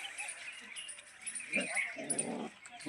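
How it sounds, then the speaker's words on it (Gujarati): Young puppies yelp and bark in short, close bursts outdoors near a home garden on a sunny morning, with a voice nearby. "ગલુડિયા પણ આવી ગયા કૂતરા"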